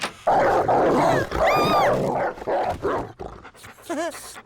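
Animated cartoon dogs bark, whimper and pant in a busy flurry of yelps and whines, with a voice talking in between.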